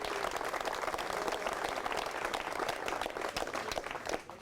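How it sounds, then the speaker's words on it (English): A history-talk audience applauds after being told attendance topped 500, dense clapping filling the room steadily and tapering slightly near the end. "So give yourself a round of applause."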